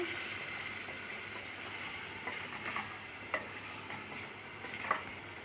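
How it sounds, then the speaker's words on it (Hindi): Shinwari mutton karahi with crushed black pepper and yogurt frying over a medium flame, a soft continuous sizzle with faint scattered stirring clicks, heard alone. "अच्छी तरीके से हम इसको भून लेंगे"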